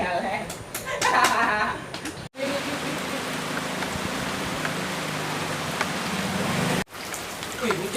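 Steady rain falls on a surface outdoors, a constant hiss with scattered drops, while people talk over it, mainly near the start.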